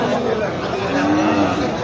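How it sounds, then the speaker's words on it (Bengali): At a busy cattle market, a cow gives a long low moo amid a dense background of crowd chatter and voices. "অসংখ্য গরু দর্শক,"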